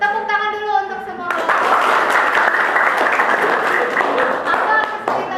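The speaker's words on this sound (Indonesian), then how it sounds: "Tepuk tangan dulu untuk semua" A class of students applauds together after classmates perform short theatre pieces for an arts lesson, a dense, steady patter of many hands close by that starts abruptly after a voice and holds evenly to the end.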